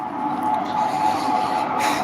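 An Indian Railways inspection special hauled by WAP-4 electric locomotives at both ends runs past near a rail bridge on a double-line project, a steady moderate rolling rumble with a faint tonal whine throughout.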